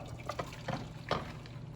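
Water is poured into masa for making arepas, heard as soft, close sloshing and dripping over a steady background hum. A few brief splashes stand out.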